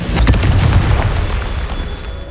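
In Hogwarts Legacy, the Confringo spell detonates in a single loud, close boom that rolls off into a fading rumble.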